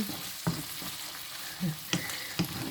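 Chili and pork stir-fried in a pan for nam prik moo, a steady sizzle punctuated by several sharp spatula clacks and scrapes against the pan, with no one talking.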